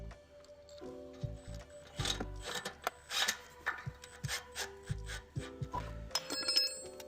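A screw is driven into a replacement hinge on a gate, with uneven creaking, grinding turns and small ticking scrapes of metal and wood, close up and alone.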